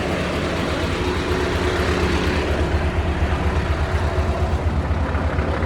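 Diesel engine of a forestry crane running steadily at close range, a loud continuous low rumble with a faint whine, no voices over it.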